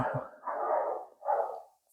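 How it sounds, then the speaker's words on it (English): A dog barks a few times in quick succession, muffled and somewhat distant, with a short pause between the barks. "Try and ignore the neighbor's dog you can hear barking"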